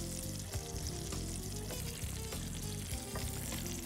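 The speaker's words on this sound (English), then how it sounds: "I want to make sure that my butter is not caramelized too much, and the butter gives out the flavor." Butter sizzling and frying steadily in a hot pan with chicken legs being browned before going into the oven, a close, constant crackling hiss without talk.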